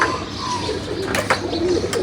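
Pigeons coo softly from cages at a pigeon-racing loft, their low rounded calls repeating steadily over a dense background hiss of outdoor noise.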